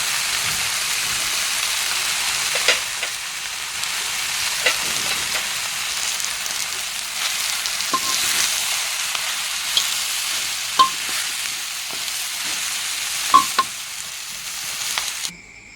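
Tilapia and celery stir-frying in a crowded wok, with a steady loud sizzle and hiss broken by occasional clacks of a utensil stirring, close up and without talk.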